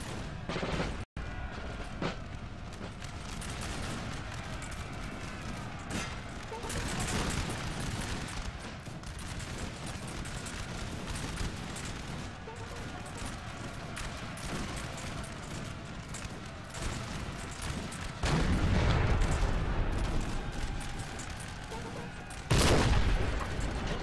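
Point-blank canister artillery fire in Napoleon: Total War, a dense continuous roll of distant musketry and cannon booms with several louder bursts and cracks standing out near the end, no talk.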